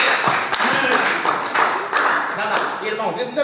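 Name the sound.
audience applause at a church conference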